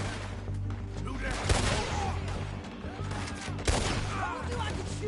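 Gunfire in Red Dead Redemption 2 during a story shootout, a running exchange of rifle and pistol shots with two louder sharp cracks standing out over game music and ambience.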